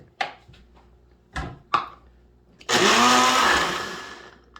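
A few clunks and taps as a kitchen blender is set up, then the blender bursts into a loud, close whir blending sauce for a potato breakfast dish, slowly fading.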